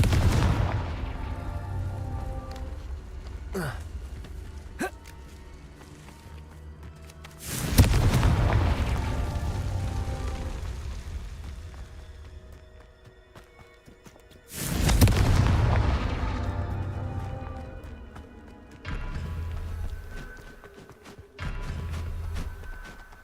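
Repeated fire-spell blasts from combat in the Hogwarts Legacy video game: three deep, loud booms several seconds apart, each followed by a long rumbling decay, with smaller impacts and crackles between them.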